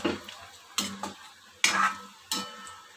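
A marinated masala with yogurt cooks in a pot for pulao, a soft sizzle under four distinct spoon stirs and pot scrapes spaced about a second apart, close by with no voices.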